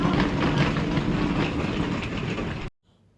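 A passenger train rolls along the rails with a steady, loud rumble and clatter that stops abruptly near the end, leaving near silence.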